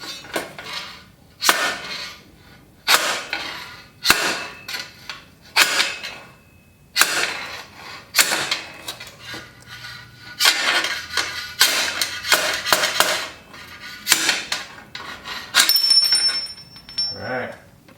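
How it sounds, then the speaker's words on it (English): A piece of metal rebar repeatedly bangs against old bearing cups in a bicycle frame headset, giving sharp, loud metallic strikes in irregular bursts, some in quick clusters, with brief pauses between. "I've got a piece of rebar here, it's a piece of metal. I'll go ahead and try and knock those out."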